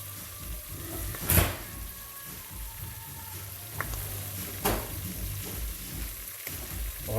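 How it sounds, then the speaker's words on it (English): Gumbo ingredients for a chicken, sausage and seafood gumbo sauté in a pot, giving a faint, steady low sizzle with a couple of soft utensil knocks. "Let that saute about a minute."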